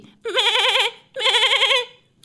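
Goats tethered by a rope under a peepal tree in a village let out two loud, close, quavering bleats, each lasting about half a second, separated by a short pause.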